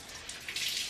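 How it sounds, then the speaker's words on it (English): Warm water runs from a kitchen tap to wet a tea towel, a steady close hiss of flowing water swelling slightly toward the end. "get a tea towel and make it wet with kind of like warmish water"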